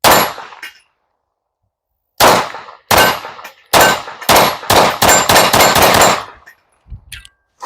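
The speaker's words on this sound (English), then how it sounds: "this might be one of the softest shooting guns I have ever shot" A CNC Gunworks Akira 2011 pistol fired repeatedly: one shot, a pause, then a series of sharp, loud, close reports in quick succession with ringing tails and brief gaps, with no talk.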